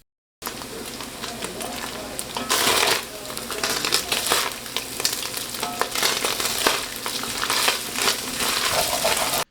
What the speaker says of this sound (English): Crackling. Now we're frying.